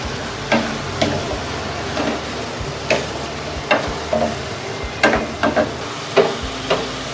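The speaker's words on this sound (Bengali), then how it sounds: "তেলের সাথে মশলা যখন নিয়ে যাবে তখন চিংড়িগুলো ছেড়ে দিচ্ছি।" Prawns frying in oil with spices, an irregular sizzle broken by clattering stirs and scrapes of a utensil against the pan, close with no voices.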